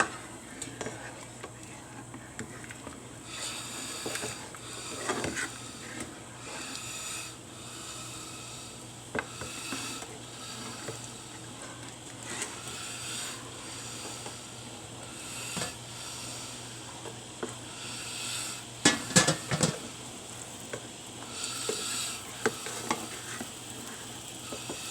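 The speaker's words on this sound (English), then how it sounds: "I'm going to stir it constantly, because it likes to stick at this point" Spoon stirring a boiling sugar mixture in a pot, soft repeated scraping and sloshing strokes over a faint bubbling hiss, with a few louder clinks toward the end.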